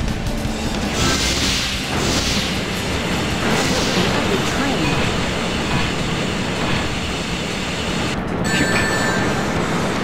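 Train in the video game Sonic Heroes: a loud, steady rumbling rail roar fills the whole span without a break, with a brief shift near the end.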